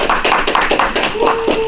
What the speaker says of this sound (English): Give a little applause.